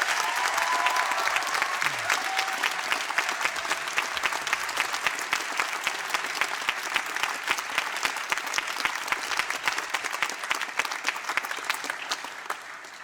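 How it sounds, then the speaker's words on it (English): A large audience applauds at a university graduation ceremony, a long, dense wash of clapping that holds steady and thins slightly near the end. "So can I ask you to give them a very special round of applause?"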